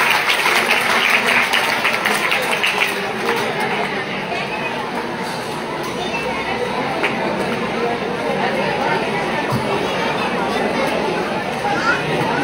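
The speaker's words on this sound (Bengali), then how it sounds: "ছাত্রছাত্রীরা তোমরা করতালির মাধ্যমে আমাদের" Schoolchildren clap together at a Teachers' Day school function, a broad wash of applause mixed with murmuring chatter and voices, holding fairly steady before easing slightly.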